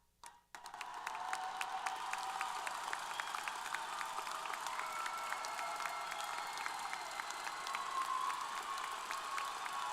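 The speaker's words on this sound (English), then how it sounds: "Islanders, you can thank them with a round of applause" A university commencement crowd applauds graduates' spouses, children and family members; after a brief quiet start, clapping swells into broad, sustained applause with distinct individual claps standing out through the roar.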